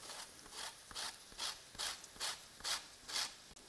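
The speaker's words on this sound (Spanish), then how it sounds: "Ahora cogemos un limón o una ralladora, de esta que normalmente se usa para rallar el queso, y le rallamos la cáscara de este delicioso limón." A lemon's peel is grated on a metal cheese grater in a kitchen, giving a steady rhythm of about eight soft, close rasping strokes with no voices.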